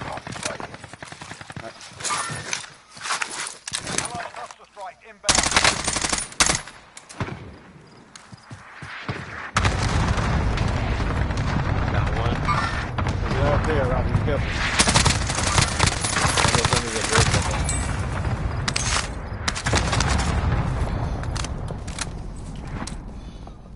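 Gunfire in Call of Duty Warzone, with bursts of automatic fire, a sustained loud stretch of shooting and scattered shots over several seconds, while players talk over the action.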